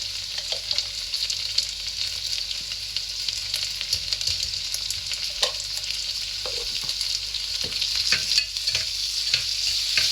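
Ginger garlic paste sizzles steadily in hot oil for dhal rice, with a spoon stirring through it and occasional scrapes against the pan, all at close range and without talk.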